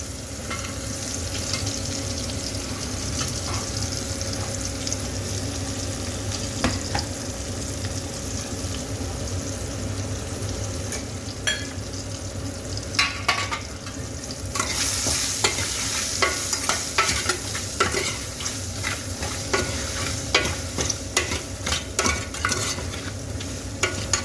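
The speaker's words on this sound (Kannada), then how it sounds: "ಇದು ಹೀರೆಕಾಯಿ ಹಾಕ್ತಾ ಇದ್ದೀನಿ." Ridge gourd dropped into a hot pan, frying with a steady sizzle while a spoon stirs and scrapes in irregular clinks and scuffs, close and fairly quiet, no voices.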